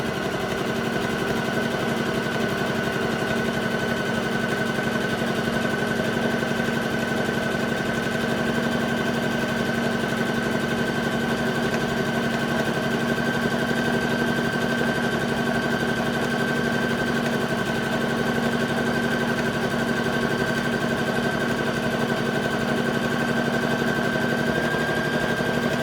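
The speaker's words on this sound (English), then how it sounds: "I am sewing at 1/4 inch seam allowance, so I'm going to stitch and back stitch" Sewing machine stitching fabric for a dice bag at a quarter-inch seam, a steady close hum and rapid needle rattle that run unbroken for about half a minute with no voices.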